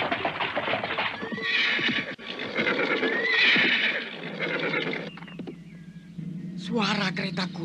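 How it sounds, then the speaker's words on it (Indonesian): Horse hooves clip-clop steadily while a horse neighs loudly a couple of times, with a horse-drawn carriage rattling along underneath. "Suara kereta kuda, Bukini."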